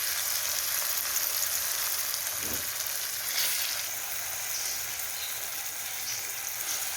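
Medium tomatoes, cut in half, are sautéed in a pan for a Chettinad vathakulambu; a continuous bright sizzle of frying runs the whole way through with a light scrape of stirring near the middle, and nobody speaks.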